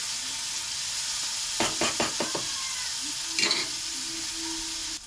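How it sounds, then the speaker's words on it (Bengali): Onions and turmeric frying in oil in a pan, a steady soft sizzle with a few brief clattering stirs partway through and near the end. "একটু লাল লাল করে ভাজা হবে।"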